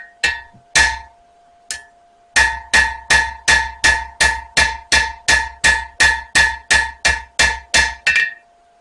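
A Viking knife blade is hammered on an anvil: two separate blows, a pause, then a steady run of about fifteen ringing metallic strikes, close and loud.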